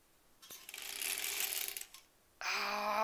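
An embroidery sewing machine whirs briefly while back tacking on a zipper pouch, a short run of mechanical stitching followed by a pause and a second burst of motor hum.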